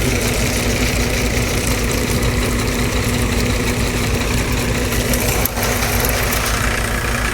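A steady, droning tractor engine idles nearby in a farm field, deep and constant with a low rumble and vibration, holding unchanged for the whole stretch with only a brief dip near the end.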